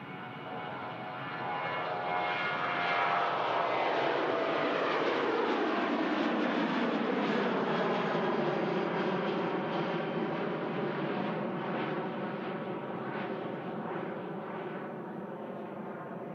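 A KLM airliner rolls down the runway at Manchester Airport for Amsterdam, its engines building from a low rumble into a loud, rising roar with a descending whine, then a long steady thunder that slowly eases off into the distance.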